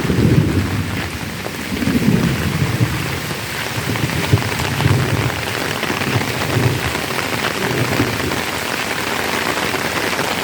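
Steady rain pours down beside a tree-lined road, with low thunder rolling under it in slow swells; the downpour stays loud and continuous throughout, with no voices.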